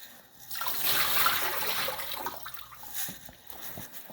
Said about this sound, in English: now I'm just going to drain the water.